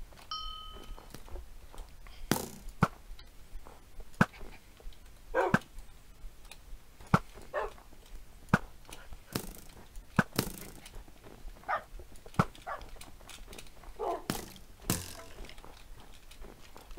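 Dogs bark in a Minecraft PvP match, sharp isolated yaps scattered across the stretch at irregular intervals over faint game clicks and mechanical ticking, with no talk.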